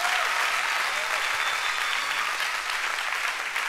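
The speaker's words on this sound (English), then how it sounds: "Can we have a round of applause for our pastors?" Audience at a G4T conference forum gives the pastors a round of applause, a steady wash of clapping from a crowd that runs evenly throughout at moderate loudness.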